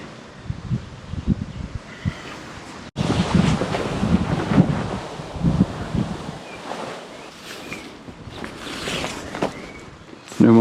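Wind gusts buffet the microphone on a hillside in the Austrian countryside, rough rumbling bursts rising and falling, loud and close, with a short break partway through.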